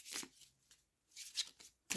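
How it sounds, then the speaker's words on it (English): Tarot cards being shuffled by hand in bursts of riffling, a short flurry, a pause, then two more quick shuffles, close and fairly quiet with no talking. "I'll put that back and shuffle, see if it comes out, and I'll use those cards"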